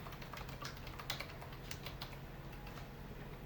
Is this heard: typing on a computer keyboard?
yes